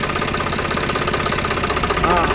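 A tractor engine runs just after starting, a steady close knocking idle with a rhythmic mechanical pulse throughout.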